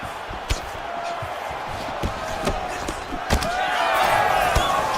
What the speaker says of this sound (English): Sold out crowd screaming Armzat.